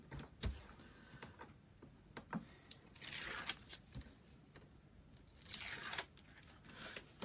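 Double-sided tape torn from a roll during a craft album build, heard as several short dry ripping and crunching bursts spread through the clip, close and moderately loud against a quiet room.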